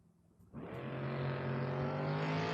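A Firebird and a Camaro launching down a drag strip, engines roaring from near-silence into a sustained, loud, high-revving drone that holds steady as the cars pull away.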